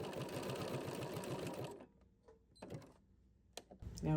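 A sewing machine fitted with an overlock foot stitches a very narrow zigzag, a fast even mechanical whir for about two seconds, then stops, leaving quiet with a few small handling clicks and knocks.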